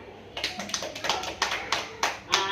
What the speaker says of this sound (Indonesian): Kita beri aplaus kepada Ibu Cika.